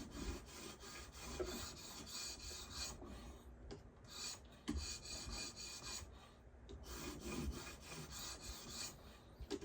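A Spyderco kitchen knife is drawn over a sharpening stone wet with Trend lapping fluid on a clamped guided sharpener. Quiet, even rasping strokes repeat in a steady back-and-forth rhythm, with brief pauses between passes.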